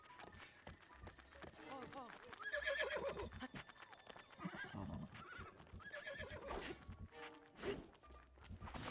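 Horse in the video game Zelda: Breath of the Wild, whinnying and clopping hooves amid game effects, with a person talking over it.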